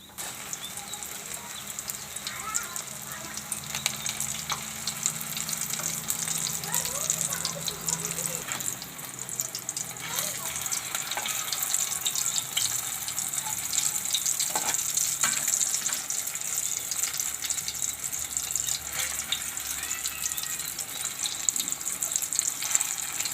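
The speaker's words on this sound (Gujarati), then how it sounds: "તો આ રીતે આપણે બધી તળી લેશું" Chana tikadi, gram-flour fritters, frying in hot oil, giving a steady broadband sizzle and bubbling that runs throughout at moderate level, with occasional faint clinks and soft background voices.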